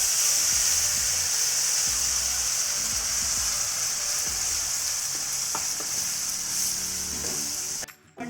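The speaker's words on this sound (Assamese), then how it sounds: "এইখিনি গোটেইখিনি ভাজি হোৱাত মই বিলাহী, আদা আৰু জলকীয়া পেষ্টখিনি ঢালি দিছো।" A tomato, ginger and chili paste with spices sizzles steadily in a hot pan, a loud continuous frying hiss with occasional stirring scrapes, cutting out abruptly near the end.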